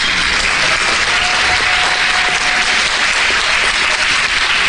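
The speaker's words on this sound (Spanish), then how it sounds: "Fuerte los aplausos." A congregation keeps up strong, continuous clapping at a church gathering, a thick even wash of applause with no speech over it.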